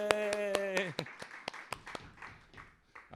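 A small poetry open mic audience gives a handful of sharp, scattered handclaps close by, opening with a few cheering voices before the claps thin out into sparse taps.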